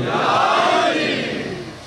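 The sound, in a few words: crowd shouting "Haidari" in response at a majlis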